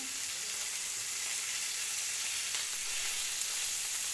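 Meat fries in a pan with a continuous, even sizzle and crackle, moderately close and with no talking.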